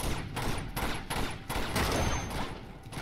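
Gunfire in Uncharted 2: Among Thieves comes as dense, loud bursts of shots in rapid repeated volleys with no talking.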